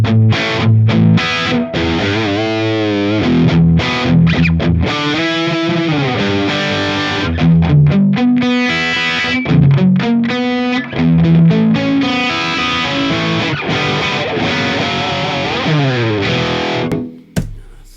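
A PT 100 guitar amp played through a Mesa cab and captured with a ribbon mic, giving a loud, heavily distorted electric guitar riff with fast runs and sustained notes, close and unaccompanied, cutting off abruptly at the end.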